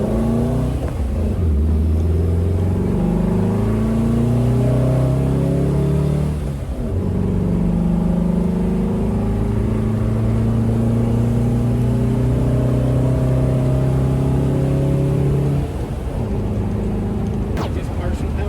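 1973 VW Thing engine revs up and down on partial throttle in several rising and falling pulls, close and loud, with a brief dip in the middle; people talk over it.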